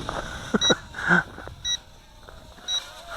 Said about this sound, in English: that beeping is low battery on my transmitter